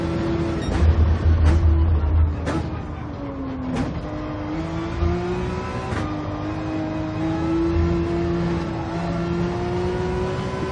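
Porsche 911 race car engine in Gran Turismo 7, running a daily race at Monza, drones steadily at high revs with sharp gear-shift breaks and pitch climbs, loud and continuous with no talking.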